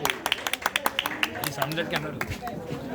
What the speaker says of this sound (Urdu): عدیل خان تالیاں بجائیے